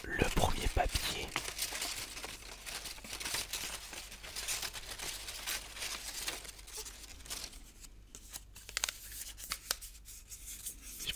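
Close paper rustling and crinkling, with light tearing-like scrapes, continues through the clip beneath quiet speech.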